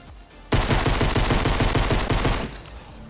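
Drum-fed submachine gun firing in Fortnite: Battle Royale, a loud, rapid burst of shots in a steady stream for about two seconds before cutting off, with no voices over it.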